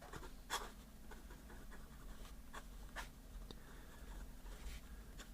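A fountain pen nib scratches softly across paper in short strokes, faint and close, with occasional sharper ticks and no voices.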